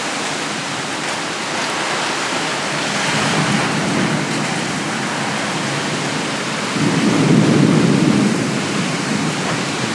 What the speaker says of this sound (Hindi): ज़ोर पानी गिरने लग रहा है।